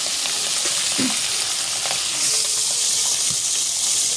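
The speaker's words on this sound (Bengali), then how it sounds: "এই যে এখানে হলুদ দিয়ে মাখানো আছে মাছগুলো, তেলে ভাজা হচ্ছে।" Turmeric-coated fish fry in oil over a clay stove, giving a steady, dense sizzle with a few soft bubbling pops, close and continuous with no talk.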